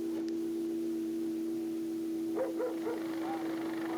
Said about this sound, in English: He hears the dogs.